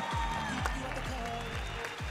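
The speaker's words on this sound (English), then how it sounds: "How about a huge round of applause for both of our warriors here in the ring?" A boxing arena crowd applauds both fighters after a championship bout, steady clapping and crowd noise underneath, while a ring announcer's amplified voice and swooping tones are heard on top.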